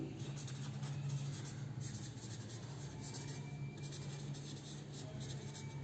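Chalk or marker scratching steadily on a classroom board during a Class 9 science lecture on metals, a continuous faint rubbing over low room hum with no speech.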